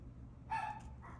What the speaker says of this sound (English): Don't mind my dad's dog.